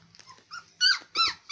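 Playful puppies let out a few short, close growls and yips in quick bursts, growing louder toward the end, with no talking.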